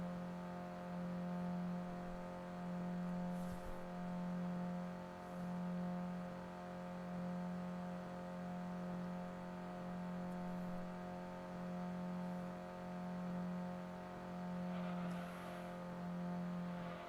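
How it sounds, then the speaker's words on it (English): In the Gran Turismo 2 racing game, a car engine sits high in the red zone, a sustained droning rev that wavers in slow regular swells, steady and unbroken, with no talking. "This car should have died by now with how long I've spent in the red zone."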